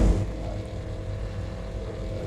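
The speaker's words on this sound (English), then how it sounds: "As you can hear someone just bringing the revs up nice and slowly there." V8 race cars idling and revving on the starting grid at Sandown, a steady deep engine rumble with a slight rise in revs, loud and close, with no voices.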